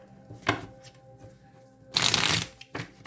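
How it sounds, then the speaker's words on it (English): Tarot cards being shuffled in quick riffling bursts, a short flick near the start and a longer loud crisp flurry later, followed by another brief shuffle, with no talking. "I'm going to shuffle again."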